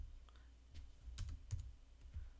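Typing on a computer keyboard, a faint, quiet scatter of a few separate key clicks at an irregular pace, close by with no talking.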